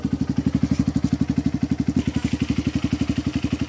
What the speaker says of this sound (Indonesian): Nah, jadi ini starternya juga masih normal. Nah, langsung nyala.